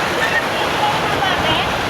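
Floodwater rushes in a loud, continuous roar as it fills a flooded house during a typhoon, with a voice speaking over the steady churning flow.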